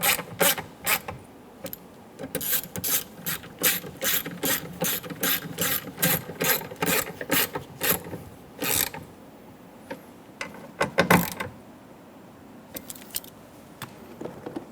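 A ratchet snugging down bolts on a 2014-2018 Chevrolet Silverado 1500 during a rear impact airbag sensor replacement, with rapid clicking bursts in quick series, brief pauses between runs, close and distinct.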